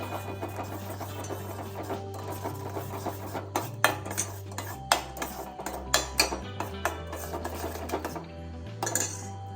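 A spoon scrapes and knocks against a pan as Amritham baby porridge thickens on a gas stove, with irregular clinks and scrapes over a low steady hum, close by and with no talking.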